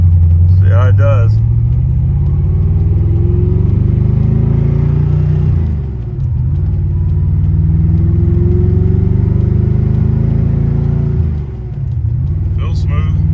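A 1990 Ford Mustang with a newly installed FST RT Plus 4-barrel carburetor drives along, its engine a loud, steady low rumble from inside the car, with two brief dips where it eases off before pulling again.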